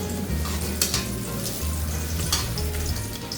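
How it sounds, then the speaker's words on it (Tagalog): Fried rice with vegetables frying in a home kitchen pan, a loud, continuous close sizzle with occasional stirring scrapes and a low background hum. "samahan po natin si Nanay Carmen magluto ng fried rice."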